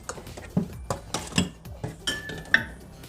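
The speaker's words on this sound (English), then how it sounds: "I'm just going to finish mashing my bananas" A fork or masher pressing ripe bananas in a bowl for banana bread: about half a dozen separate clinks and soft squishes against the dish, close and moderately loud, with no talking.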